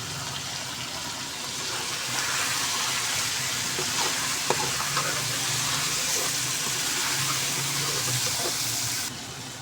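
Whole cumin and ground garam masala sizzle steadily in a hot pan while being stirred, a continuous close crackle with occasional scrapes and clinks of the spoon and no voices.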